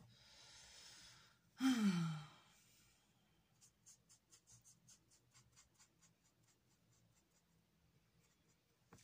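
Colored pencil strokes on paper: a rapid series of short, soft scratchy strokes in a steady rhythm, quiet and close, following a heavy sigh and a breath.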